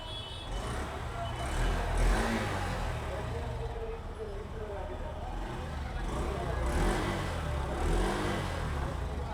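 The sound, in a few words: 2025 model motorcycle engine revving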